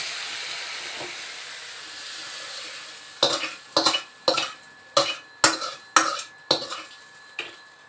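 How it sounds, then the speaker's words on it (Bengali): Prawns frying lightly in hot oil in a pan give a steady soft sizzle, followed by about eight sharp, evenly spaced scrapes and clinks of a utensil against the pan. "হালকা ভাজা ভাজা হয়ে গেলে চিংড়ি মাছগুলো নামিয়ে নেবেন"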